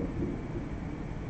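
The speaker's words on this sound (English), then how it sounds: "Yeah, thunderstorm." Faint, low rumbling from a distant thunderstorm rolls on briefly, a soft continuous murmur with no voices over it.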